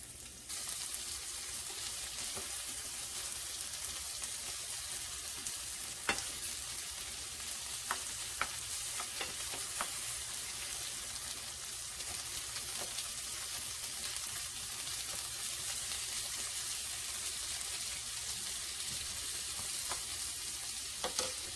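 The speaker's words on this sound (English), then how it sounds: "we're going to kind of just let this all cook and sizzle for a little bit here in our skillet" Breakfast ingredients for chorizo tacos sizzling in a hot skillet, a loud, even frying hiss lasting the whole stretch with faint scattered pops and crackles, no talking.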